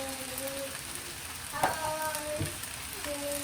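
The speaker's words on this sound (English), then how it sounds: "I'm just gonna keep mixing everything while I chop down the rice" Chinese sausage fried rice stirred in a hot pan, giving a steady soft frying hiss with a few brief scraping strokes of the utensil, close and without talking.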